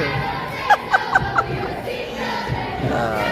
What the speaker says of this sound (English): I don't know if this is the right time for that "We Will Rock You" cheer because we're tied at 2.